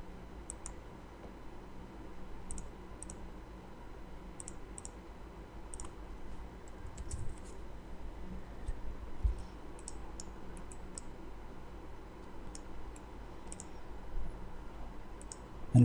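Light computer mouse clicks while a CATIA V5 model is being saved, heard as scattered sharp ticks, some in quick pairs, over a low steady room hum. No one speaks.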